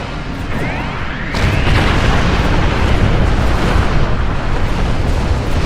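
A Doomsday weapon fires in the space game Star Trek Online as a loud, continuous roaring barrage of explosive bursts that swells after about a second and keeps rumbling heavily to the end.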